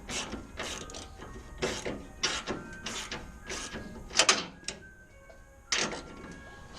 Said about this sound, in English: Just got my electric ratchet for this job.